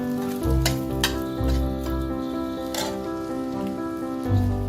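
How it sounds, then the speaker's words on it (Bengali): A dried red chilli sizzles in hot oil for a Bengali mourala fish and bitter gourd dish, a steady loud frying crackle with a few brief stirring bumps. "এবার এই তেলে আমি একটা শুকনো লঙ্কা"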